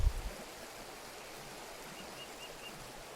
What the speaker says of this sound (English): T Creek is a tributary to the Williams River